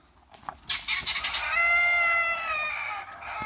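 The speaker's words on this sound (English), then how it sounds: "everybody's going to get in on this with the guineas and the chickens" Chickens, guinea fowl and a rooster on a farm in Appalachia: a few close clucks and squawks lead into a loud, sustained rooster crow, with no talking.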